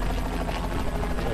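Helicopter from the action video game Renegade Ops: a steady, loud whirring rotor and engine drone that holds without a break through the short stretch, with no talking over it.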